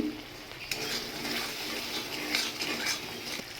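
A spice paste of ground cashew and poppy seed with turmeric, Kashmiri chili powder and a splash of water fries in a pan, a steady close sizzle broken by repeated spoon scrapes and clinks as it is stirred.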